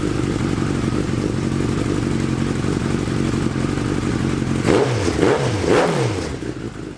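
Engine of a Chinese Hayabusa-powered trophy buggy running at a steady idle close by, then blipped through two or three sharp revs that rise and fall before it settles and cuts off.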